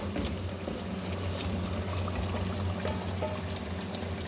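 Taro pieces added to fried masala in a pot for arvi gosht, giving a steady close sizzling hiss that runs continuously without talk.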